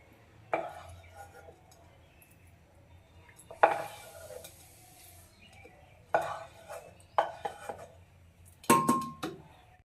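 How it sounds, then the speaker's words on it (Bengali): A metal spatula scrapes and clanks against a pan while cooked mutton is moved into a pressure cooker, in several separate bursts of scraping and knocking over a quiet kitchen background. "এবার খুন্তিতে করে প্রেসার কুকারের মধ্যে দিয়ে দেবো"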